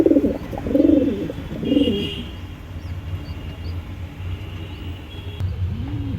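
Old pigeons kept at home coo in a series of low, throaty calls, loudest in the first two seconds and again near the end, over a steady low rumble of background noise.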